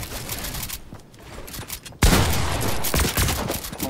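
Fortnite gunfire, quieter scattered shots for two seconds, then a sudden loud burst of rapid, overlapping shots that keeps going at full intensity, crisp cracks layered into a dense fusillade.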